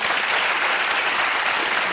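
Studio audience applauding steadily for two seconds, dense and even clapping with no pauses, at a constant moderate level throughout.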